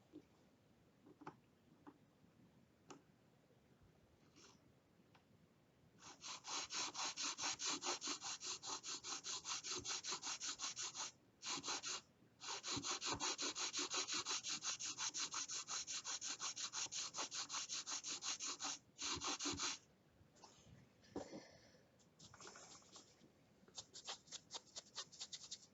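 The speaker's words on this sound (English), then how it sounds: "right now I'm just filing as straight across as I can" Hand filing of a bass guitar nut slot on a 1988 Washburn Force ABT B-20 bass, a steady run of close, rasping back-and-forth strokes with a couple of short pauses, then slower scattered strokes toward the end.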